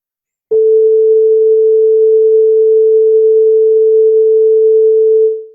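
A loud, steady pure sine wave tone at 80% volume starts abruptly and holds at constant pitch and volume for about five seconds before cutting off.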